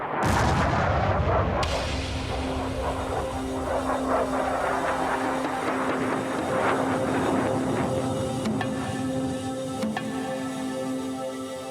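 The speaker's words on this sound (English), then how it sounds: "Colonel Modica encountered heavy anti-aircraft and small arms fire" Heavy anti-aircraft and small arms fire aimed at an aircraft near the Vietnam DMZ: a dense, continuous barrage of booming blasts and crackling shots, loud and close, with a droning engine tone running underneath throughout.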